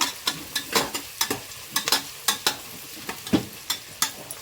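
Onions fry toward golden brown in a pan for biryani, crackling sizzle punctuated by rhythmic stirring strokes every half second or so, close and fairly loud, with nobody speaking.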